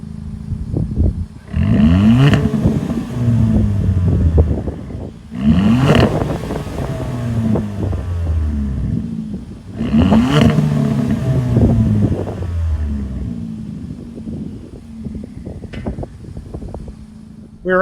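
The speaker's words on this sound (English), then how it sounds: "let's hear how this engine sounds." The turbocharged four-cylinder engine of a 2024 Kia Forte GT revs up three times in a row, each rising roar climbing and falling away close by, then it settles into a steady idle.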